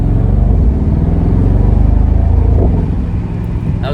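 A Mercedes-AMG SL 55 engine revs to 3,200 RPM, giving a loud, steady, deep exhaust rumble that holds for several seconds and eases slightly toward the end, with no talking over it.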